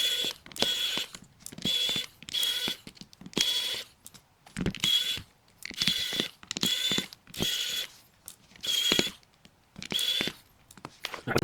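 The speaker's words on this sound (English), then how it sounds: "the next step we have to do is take out all these screws. So let's grab the screwdriver." A screwdriver backs screws out of a Maxwest Nitro N62 (MX-NN62) phone during a screen-replacement teardown: repeated short bursts of fine ratcheting clicks, close and fairly loud, with brief pauses between turns and no talking.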